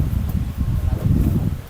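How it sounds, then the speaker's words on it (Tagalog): Strong wind blows outdoors at a rural home, low rumbling gusts buffeting the microphone in uneven surges. "Lakas po ng hangin"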